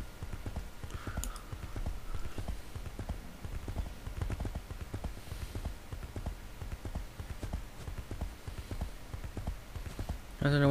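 Horse hooves clip-clop in the video game Age of Wushu, a steady, even trot of hoofbeats that runs unbroken from start to finish at moderate volume, with no one talking.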